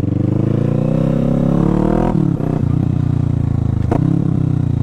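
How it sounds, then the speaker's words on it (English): A motorcycle engine revs and rides close up, loud and continuous, rising in pitch through gear changes with brief dips between shifts. "I haven't ridden my bike in a little while"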